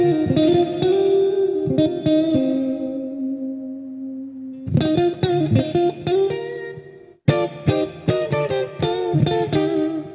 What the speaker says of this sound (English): if you play it too hard, it almost sounds like someone hit the springs in the amp, like someone shook the amp